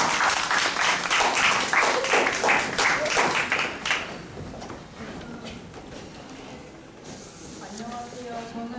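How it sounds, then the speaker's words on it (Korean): Welcoming applause from an audience at a school presentation event as a teacher comes forward, dense clapping for about four seconds that then fades out, followed by quieter room sound and some talk. "이단비 선생님 나오실 때 환영의 박수 하겠습니다"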